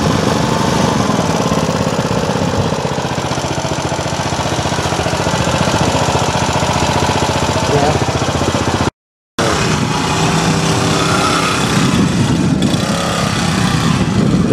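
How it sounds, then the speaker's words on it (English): A cold small engine on a DIY motorized bicycle runs after a push-button start, giving a loud, close, continuous rattling drone with a rapid knocking pulse and one brief cutout partway through. "Push the start button there, Aaron."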